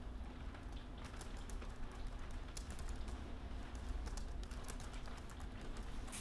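Rapid typing on a computer keyboard enters a name, a fast, steady run of light clicks close to the microphone, with no talking.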